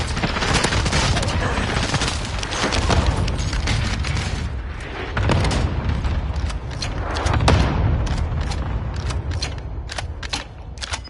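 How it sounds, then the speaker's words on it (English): Dense video game combat in Warzone: heavy booms from grenade explosions and cluster strikes mixed with sustained rapid gunfire, loud and continuous with bursts and echoing blasts throughout. "Throwing grenade."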